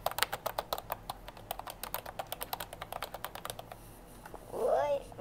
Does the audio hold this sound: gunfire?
no